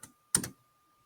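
A computer keyboard gives a brief soft tap followed by a sharper, louder pair of clicks, close and isolated in near silence.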